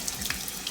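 Running tap water rinses keto noodles in a sink, a brief steady hiss of flowing water with no talking.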